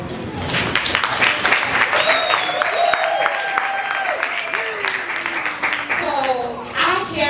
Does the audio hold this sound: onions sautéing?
no